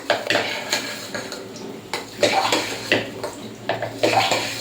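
Jaggery being stirred in a metal pot to dissolve, with repeated scraping and clinking of a spoon against the pot in uneven strokes, close and moderately loud.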